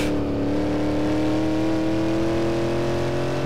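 Shelby Cobra in Assetto Corsa, driven on the Nordschleife, with a loud engine holding a steady drone that climbs gradually in pitch as it revs under acceleration, with no talking.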